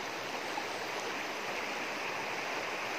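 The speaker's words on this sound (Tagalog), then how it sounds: "ito yung sapa na to na papunta doon sa bundok namin" A mountain creek flowing steadily, a constant broadband rush of water without pauses or voices.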